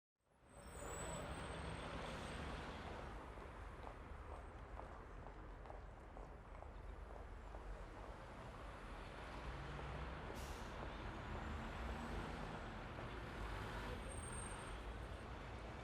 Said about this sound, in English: You are at a bus terminal where you're reading the schedule for long-distance buses.